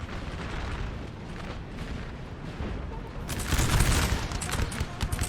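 Volleys of artillery and musket fire in the game Napoleon: Total War, a Napoleonic battle of 1809 with guns on high ground: dense crackling bursts and distant booms that swell louder near the end.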